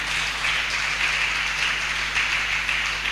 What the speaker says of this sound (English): let's give him another round of applause for that